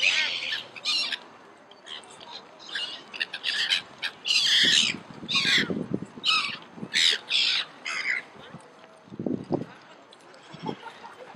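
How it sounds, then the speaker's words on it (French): Seagulls at a lake in the Bois de Vincennes give a lively chorus of harsh, overlapping squawking calls, close and fairly loud, with low voices occasionally audible underneath. "C'est la fête chez les mouettes."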